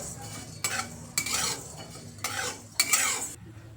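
Coriander seeds toasting in a pan over medium-low heat are stirred in four or five short scraping sweeps, each a dry rustling rattle with faint sizzle between, close and moderately quiet.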